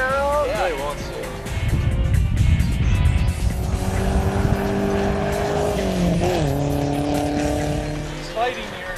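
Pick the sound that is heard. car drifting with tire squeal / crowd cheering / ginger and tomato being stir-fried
car drifting with tire squeal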